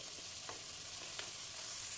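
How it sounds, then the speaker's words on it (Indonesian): Oil, about five tablespoons, sizzles and fries steadily in a pan while making a rendang pizza filling, a close, continuous hiss with faint stirring ticks. "ini tadi minyak kita masukkan, minyaknya agak banyak ya, sekitar 5 sendok makan gitu"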